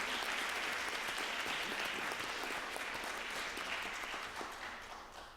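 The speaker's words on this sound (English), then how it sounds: "seniors, please a round of applause for your parents" Sustained applause from a school audience honoring parents at a high school academic awards ceremony, dense steady clapping that fills the hall and slowly tapers toward the end.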